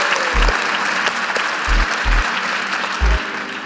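Business-talk audience clapping in a live hall, a short burst of scattered, fairly loud applause with a few heavier claps standing out.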